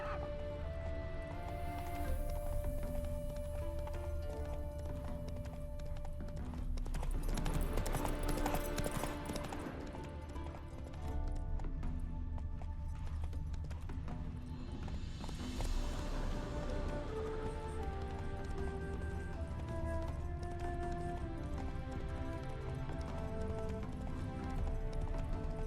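Hoofbeats of Roach galloping in The Witcher 3 drum in a fast, continuous clip-clop for the whole stretch, close and clear, layered over steady game music and ambient noise.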